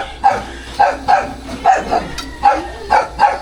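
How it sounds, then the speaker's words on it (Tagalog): A dog barks in a steady series of about seven sharp, evenly spaced woofs, close and loud, with little else around them. "Kaya nga yung ating aso."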